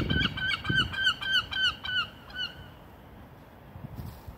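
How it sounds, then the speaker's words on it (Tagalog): A flock of birds honks overhead, about eight loud calls in a quick steady rhythm that fade out, leaving quiet outdoor air. "Dami mga ibon guys, oh, lumilipad guys"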